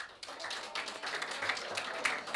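Scattered applause in a township council meeting room as residents receive certificates from the mayor, a steady, moderately faint patter of hands lasting a couple of seconds without speech.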